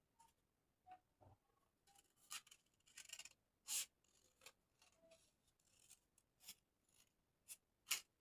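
Quiet scissors snip through a drafted 720-degree flare pattern with a series of crisp individual cuts at an uneven pace, mixed with soft paper rustles and light handling noises.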